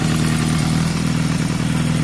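A motorcycle engine with a debaffled Motad exhaust runs at a steady, loud idle, giving a throbbing, even low rumble for the whole stretch with no talking.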